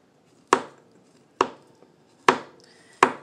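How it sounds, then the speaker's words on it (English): A knife cuts through bananas for banana pudding, striking the cutting board in four crisp, evenly spaced chops, each a sharp close knock that fades quickly, with near silence between and no talk. "slicing and dicing with this knife. This thing go through these bananas like they are nothing."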